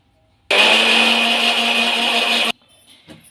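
A mixer grinder roars loudly for about two seconds of steady, high-pitched whirring while grinding brahmi leaves with a little water into a paste, then cuts off abruptly into near silence.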